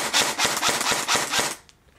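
A King Kong airsoft gun fitted with a Burst Wizard mosfet fires a quick string of about eight close, crisp mechanical shots in a steady rhythm, then stops and goes quiet.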